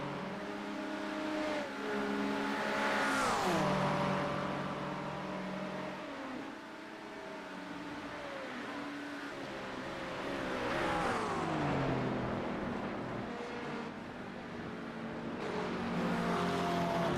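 GT3 race cars, an Acura and a McLaren, roar past on the Spa circuit during a six-hour endurance race, engines loud and close with rising and falling pitch as they accelerate, shift and pass.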